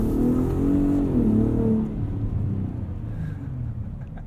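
A 2021 Ford F-150 Raptor 4X4 SuperCrew pickup on BFG KO2 tyres gives a loud, close engine roar that rises in pitch, then drops back to a lower, steadier rumble as the pull eases.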